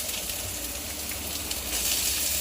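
Hot oil sizzling steadily in a pan, ready for frying bananas, a continuous crackling hiss that grows slightly louder near the end, with no talk.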